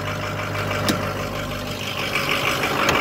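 A 2007 Ford F350 Powerstroke diesel engine runs at high idle under the hood, a steady close rumbling drone with a constant low hum and no talking.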